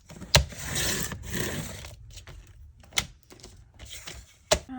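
A paper trimmer or blade cuts through a mixed media master board to make a journaling card, giving several rasping strokes with sharp taps in between, close and fairly quiet.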